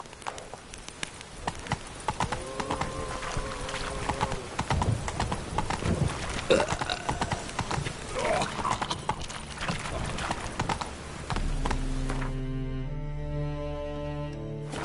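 Hooves of Geralt's horse Roach clip-clopping steadily on the ground in The Witcher 3, with snorts and low voices mixed in, giving way to music near the end.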